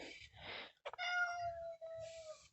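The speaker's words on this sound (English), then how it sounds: "There's the cat." A house cat meows indoors, a couple of short calls followed by one long, drawn-out tonal meow, close and clear, with no talking.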